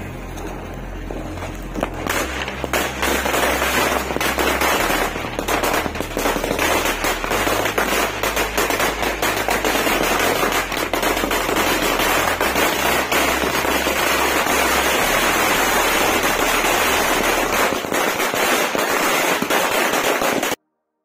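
A string of a thousand firecrackers goes off in a dense, continuous crackle of rapid bangs lasting nearly twenty seconds, loud and close, then stops abruptly.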